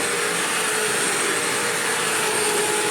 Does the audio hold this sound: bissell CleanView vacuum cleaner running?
yes